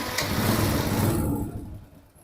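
An old motorcycle's engine rumbles loudly at close range for about a second and a half, right after a start on its starter, then fades quickly toward quiet.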